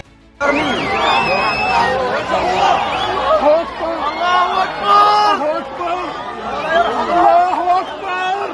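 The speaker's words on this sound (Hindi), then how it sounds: "गोलियों की आवाजों के बीच भीड़ अल्लाहू अकबर के नारे लगा रही थी" A crowd at a Hamas shooting of alleged informers chants Allahu Akbar: many overlapping raised voices shouting in loud, rising and falling waves that start abruptly and continue throughout.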